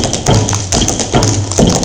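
Rapid tap dance steps, including an Irish double toe step, clatter in quick rhythmic bursts on a stage, close and loud, like shoes striking a hard wooden floor.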